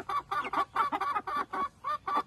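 A rooster and his hens cluck around a laying nest in a rapid, rhythmic run of short, close, fairly soft bursts that repeat evenly with no voices.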